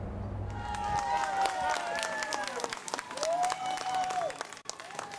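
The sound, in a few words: mourners clapping and cheering outdoors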